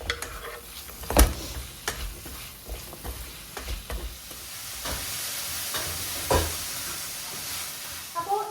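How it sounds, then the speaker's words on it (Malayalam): Chopped tomato and onions sautéing in a pan for a country-style chicken dish, with a steady sizzle and hiss broken by sharp scraping and stirring knocks of a spoon against the pan, close and clear with no talking. "ഈ കൂട്ടത്തിലേക്ക് ഒരു തക്കാളി കൂടി ചേർത്താൽ 2 ഒന്നിച്ചങ്ങ് വഴന്ന് കിട്ടും"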